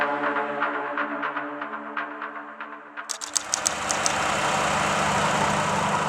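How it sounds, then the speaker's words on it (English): A diesel engine hums low and steady inside a cramped low-profile vessel heading to Central America at about 16 km/h, with soft pulsing early on before a broader, louder rumbling wash takes over. "Every so often, the low hum of the diesel engine pulses through the hull as it pushes them forward at 16 kilometers per hour."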